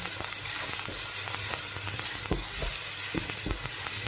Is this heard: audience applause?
no